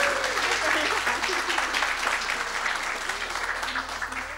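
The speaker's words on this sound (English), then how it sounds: "give her a big round of applause" Wedding guests break into warm applause at the reception, a full sustained clapping from a crowd that stays loud and even throughout, with a faint tonal hum underneath.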